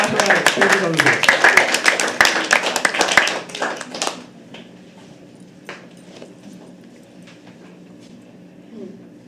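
Audience applause at a live poetry open mic at The Habitat, a dense burst of many hands clapping for about four seconds that then fades, leaving quiet room tone with scattered faint claps and murmuring voices.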